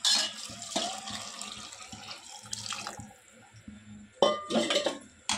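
Hot water pours into a cooker holding vegetable pulao, a steady watery splash close by with some metallic clinks of the pot and a louder gush near the end.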